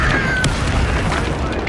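An explosive spell impact in the Hogwarts Legacy video game, a sharp booming burst with a crashing edge near the start, trailing off into rumbling game noise, loud and close.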